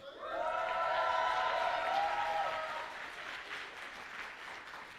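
An audience at a cosplay contest applauds, the dense clapping swelling quickly and then holding steady with faint cheering, moderately loud and heard from within the crowd.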